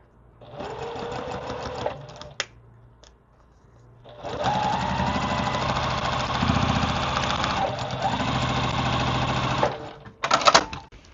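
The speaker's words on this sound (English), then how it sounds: "And I'm going to sew right off the edge and get my next piece." A sewing machine stitches quilt fabric pieces in two long runs of fast, steady mechanical whirring and needle chatter, loud and close, with short pauses between runs.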